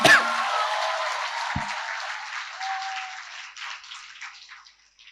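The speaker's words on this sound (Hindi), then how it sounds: "हाँ जोरदार ताली बजाओ।" Audience at a children's poetry gathering clapping loudly, a dense burst of applause that starts strong and slowly thins and fades out over a few seconds, with no talk.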